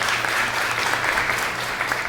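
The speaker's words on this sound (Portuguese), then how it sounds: "Aplauda o Senhor, meu irmão, em nome de Jesus." Church congregation applauding steadily, a dense, even wash of clapping filling the space at close range without pause.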